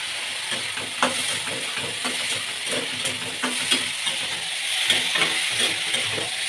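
Vegetables stir-frying with turmeric and chili in a hot pan give a constant loud sizzle with periodic scraping clicks of a spatula, close up and continuous, with no voices.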